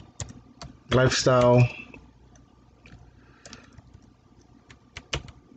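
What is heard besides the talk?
typing on a computer keyboard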